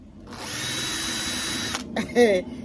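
A power drill with a 10 mm butterfly bit whines at high speed for about a second and a half while drilling a hole, then stops abruptly, followed by a brief voice.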